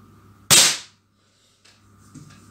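An air rifle fires a single pellet at a target range, one sharp, loud, close crack that decays quickly into near silence, followed by faint handling noises.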